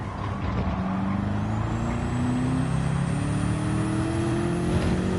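Car tyres spin and squeal under a straining engine in the Gran Turismo 7 racing game at Daytona, a continuous loud roar with rising whine and tyre noise, no talk.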